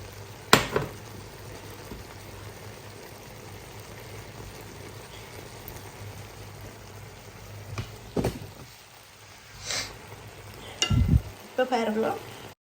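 Onions, fennel and fried chillies sizzle in a pan for a prawn dish, a steady close frying hiss broken by several loud scraping stirs and clanks of a spoon near the end.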